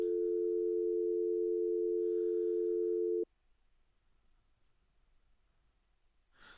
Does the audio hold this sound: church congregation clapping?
no